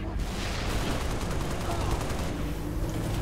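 Rapid gunfire from a teammate in the video game Halo: Reach, a dense, continuous burst of shots filling the whole moment at steady loudness, with a voice faintly audible underneath.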